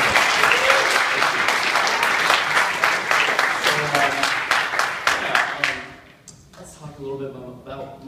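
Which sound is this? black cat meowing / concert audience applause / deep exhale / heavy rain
concert audience applause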